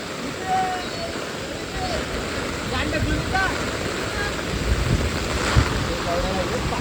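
Strong wind gusting over an open flooded area during a monsoon storm, a steady broad roar with buffeting on the microphone and rushing water beneath, while people talk and voices drift in.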